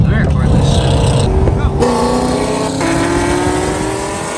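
A BMW M6 engine, stated at 80 horsepower, idles and revs loudly at close range before a street race, its steady droning hum continuing under people talking nearby.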